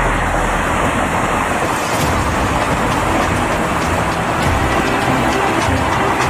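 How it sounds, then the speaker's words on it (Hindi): A new Vande Bharat Express train on the Howrah–New Jalpaiguri route arriving: a loud, continuous rushing rumble with a hissing, wind-like roar, close and steady throughout the short stretch, with no voices. "आवाज़ हो रही है और ट्रेन का आगमन होने वाला है"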